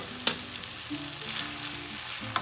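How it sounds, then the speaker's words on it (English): Water hits a hot pan and sizzles in a steady hiss, with a few sharp clinks of a utensil near the start and end. "You can hear it deglazing the pan."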